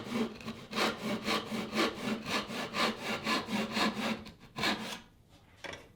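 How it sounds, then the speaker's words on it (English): Rhythmic back-and-forth rasp of a tenon saw cutting a thin piece of wood to length, about a dozen close, even strokes that slow and stop near the end. "and then I'm cutting to length,"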